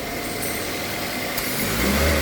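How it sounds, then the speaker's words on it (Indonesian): Car engine running rough and failing to settle into idle after its PCV hose is pulled off, a steady close mechanical drone with a slight surge toward the end. "di sini kan mesin tidak langsam atau tidak idle"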